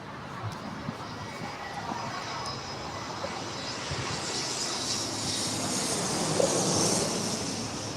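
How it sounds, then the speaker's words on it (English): A Delta Airlines Airbus A321 arriving at LAX on a flight from Atlanta, its engine roar a broad steady rumble that swells slightly toward the end, heard from a distance with no talk. "we have a Delta Airlines Flight 449 coming in from Atlanta on an Airbus A321"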